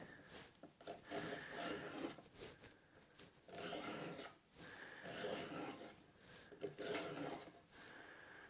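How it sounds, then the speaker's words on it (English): A peeler scraping along a parsnip in a home kitchen, repeated rasping strokes in uneven bursts with short pauses between, close and fairly quiet. "What I am going to peel is this parsnip"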